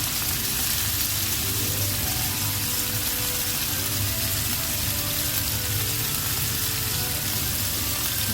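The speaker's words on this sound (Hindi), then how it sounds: "एक पीस हम अलग अलग करके पहले हम एक तरफ से इसको अच्छी तरह से गोल्डन करेंगे, फिर दूसरी तरफ से कर लेंगे।" Chicken pieces frying in oil in a pan until golden, a steady, dense sizzle and crackle of hot oil running close and continuous throughout.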